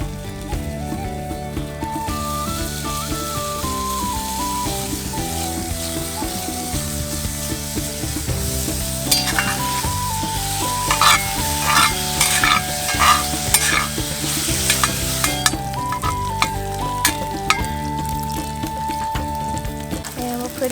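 Okra stir-frying in a pre-seasoned Lodge cast iron mini wok, steady close sizzling with metal stirring and scraping throughout, louder crackle bursts midway and faint background music.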